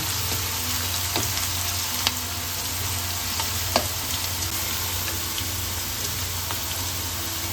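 Vegetables lightly frying in a pan for no-onion, no-garlic veg fried rice, giving a continuous close sizzle with a few faint stirring clicks.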